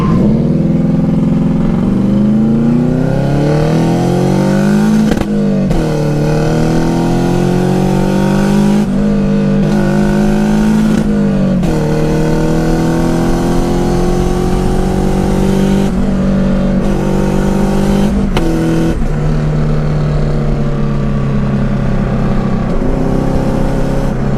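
A turbocharged car engine revs hard and loud, its pitch rising and falling in repeated surges, with turbo flutter in brief gaps where the throttle lifts between pulls.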